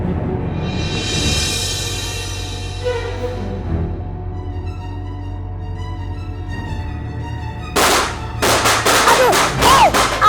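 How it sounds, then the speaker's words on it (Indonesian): Firecrackers set off nearby: a rapid cluster of sharp, loud cracks from about eight seconds on, following a quieter stretch of background sound and music. "Iseng banget sih kamu ini main petasan."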